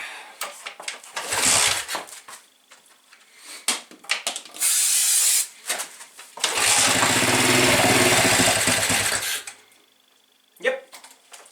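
Pit bike engine cranks over and fires up in a workshop, running loudly for a few seconds with a rough buzzing idle before cutting off, amid scattered clatter and brief voices.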